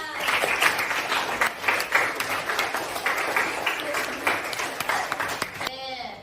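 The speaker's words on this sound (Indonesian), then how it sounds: "Oke, tepuk tangan." A room full of people claps steadily for several seconds, a dense, even patter of hands that cuts off near the end.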